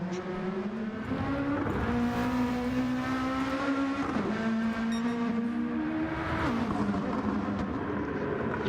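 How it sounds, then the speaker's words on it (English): Touring car engine in a racing video game at Bathurst, starting a lap: a loud, steady engine drone climbing in pitch through repeated gear shifts, with brief dips between each rising run and no talk. "So we're about to see Morgan Davey start his lap"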